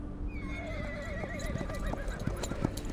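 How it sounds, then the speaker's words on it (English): A horse in the video game Reverse 1999 gives a loud, wavering neigh that rises and trembles over a steady backdrop of music and ambience, with faint hoof clip-clops underneath. "The horse answers with a loud neigh."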